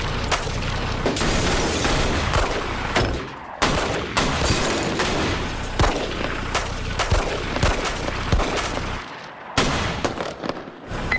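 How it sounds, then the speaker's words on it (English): Gunshots fired inside a school building, a series of heavy booming reports and scattered shots over a continuous rumbling din, some close and loud, others more muffled, without speech. "Shots fired. Shots in the building."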